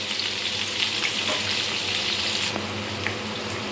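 Sliced pointed gourd fries in hot white oil, giving an even, dense sizzle close by with a few faint stirring touches and no voices.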